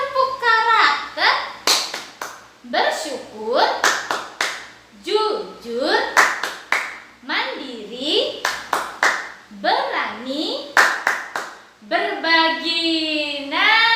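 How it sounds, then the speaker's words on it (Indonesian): Children chant a rhythmic Indonesian 'tepuk karakter' clapping game, with bursts of sharp hand claps punctuating their sung words in a repeating pattern. "Sekarang kita mau lanjutkan tepuk karakternya ya."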